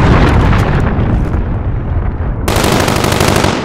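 A cruise missile strikes during an online Call of Duty Modern Warfare match, producing a loud, continuous roar of blasts and rattling gunfire with a sudden burst of fresh impact partway through.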